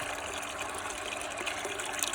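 Soft, steady rush of cold water flowing from a borehole after the pump restarts, faint and continuous with slight gurgling texture, no voices.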